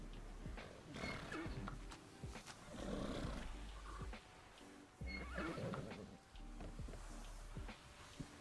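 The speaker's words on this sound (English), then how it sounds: "just hearing like horses in my ear every 2 seconds" Horses in the video game Skyrim whinny and snort again and again at moderate distance, with scattered hoof clatter and low rumbling between the calls.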